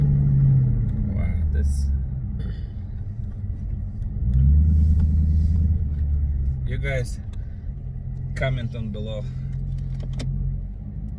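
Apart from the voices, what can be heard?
Challenger or Escalade exhaust with muffler delete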